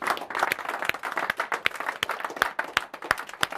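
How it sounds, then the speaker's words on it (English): Applause in a small group for a colleague being praised at work, sharp individual claps standing out over a scattered, irregular patter for several seconds. "let's give him a big round of applause"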